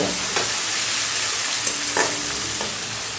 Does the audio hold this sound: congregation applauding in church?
no